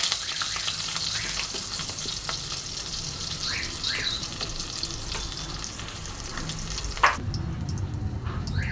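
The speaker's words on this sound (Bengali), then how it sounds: "এবার ফোড়নটা আমি ভালো মতন ভেজে নেব।" Cumin seeds and slit green chilies frying in hot oil, a dense continuous sizzle with occasional stirring scrapes and a sharper clatter near the end.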